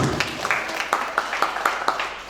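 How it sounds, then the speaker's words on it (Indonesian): Loud clapping from a seminar audience on contemporary Indonesian new media art, a dense burst of applause filling the room for a couple of seconds. "Mungkin sebelumnya biar nggak ngantuk tepuk tangan dulu ya, yang keras."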